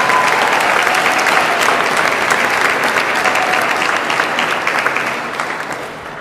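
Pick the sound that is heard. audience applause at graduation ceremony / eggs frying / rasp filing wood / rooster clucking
audience applause at graduation ceremony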